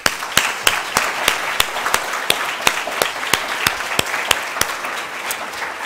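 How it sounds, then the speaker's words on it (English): Sustained applause at an academic symposium for two people. Many hands clap together at a loud, steady level for about six seconds, with one pair of sharp claps close by beating a regular rhythm over the crowd. "Huge round of applause, really."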